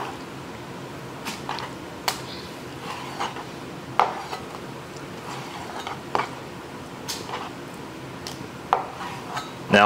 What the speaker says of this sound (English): So let's just get this cut up.